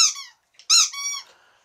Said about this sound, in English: now he saw I got the squeaky toy